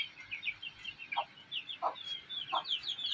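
Three low hen clucks spaced about a second apart, with a steady stream of high chick peeps chirping throughout, on a poultry farm.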